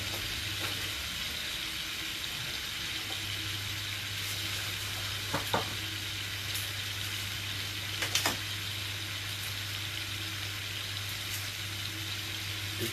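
Orange juice sizzles and cooks down in a hot pan for honey orange salmon, a steady, even frying hiss with a faint low hum underneath and a couple of small clinks.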